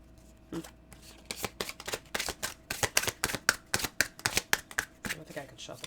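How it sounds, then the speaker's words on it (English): A deck of oracle cards being shuffled by hand, a rapid series of crisp slapping riffles in irregular bursts, close and clear, with no talking. "I don't think I can shuffle the cards this way, so I'm just going to do it like this."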